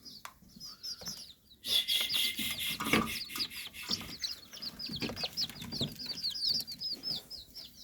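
Chickens and chicks in a clean poultry shed where feed has been put down, clucking and peeping in busy overlapping calls, with a burst of wing flapping and rustling, close and moderately loud, with no speech.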